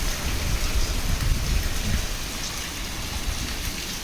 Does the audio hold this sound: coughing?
no